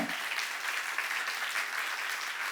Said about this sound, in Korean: 박수 치려면 세게들 치고.